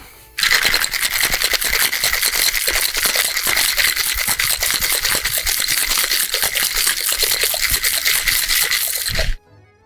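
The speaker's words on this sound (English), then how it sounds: "let's give it a shake. I'm gonna let the shake do the muddling for us" Ice rattling hard in a cocktail shaker during an egg white cocktail made with whisky, sage and Suze. The shaking is fast and steady, loud and close, runs for about nine seconds, then stops abruptly.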